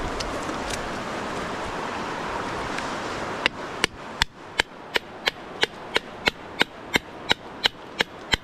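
A hammer strikes a chisel on rock during a fossil hunt on Vancouver Island, about a dozen sharp metallic clinks in a steady rhythm, close and distinct over faint outdoor ambience.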